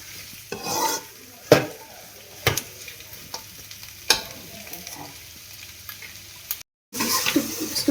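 Food frying in a pan for a home-style chilli dish, a continuous close sizzle broken by several sharp spoon knocks and stirring scrapes against the pan, with no talk.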